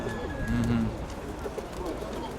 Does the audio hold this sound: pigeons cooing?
yes